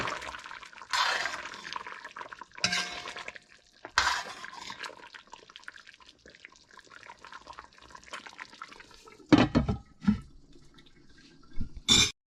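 A pot of chana and potato curry gets stirred with wet, sloppy scrapes and clinks in a few short bursts, separated by quiet gaps.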